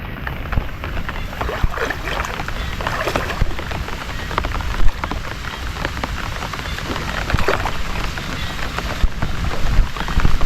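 Rain falling outdoors, a steady dense hiss and patter of drops at close range with no clear talking.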